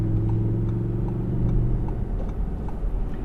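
A 2018 Audi R8 V10 RWS pulls hard to merge, its engine a steady, close cabin drone with a strong low hum that swells slightly midway, accompanied by a faint regular ticking.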